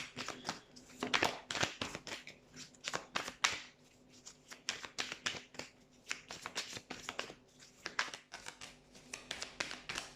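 Tarot cards shuffle close by in quick, crisp bursts of riffling and flicking. The rhythm is uneven, with short gaps between flurries, and the whole thing stays fairly quiet.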